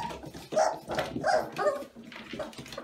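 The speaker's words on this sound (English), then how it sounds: "This is Rosie and Nitro's litter of puppies." Several young Doodle puppies from a litter yip, whimper and bark in short close bursts, overlapping one another, with no talking.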